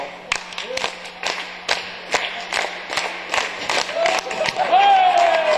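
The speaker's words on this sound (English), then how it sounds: "I think if you all start clapping, that'll help." Students in a school P.E. class clap along in an irregular patter of sharp hand claps over a steady crowd murmur, with voices and a rising shout or cheer near the end, building louder toward the close.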